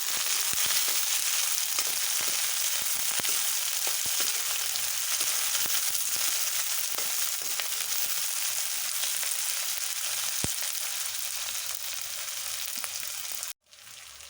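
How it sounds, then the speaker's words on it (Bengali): Chopped onions sizzle in oil in a pan while being stirred until brown for a soybean dish, a steady frying hiss broken by irregular scraping clicks, briefly dropping out near the end. "হালকা নাড়াচাড়া করবো যতক্ষণ না পেঁয়াজের রং বাদামি হয়"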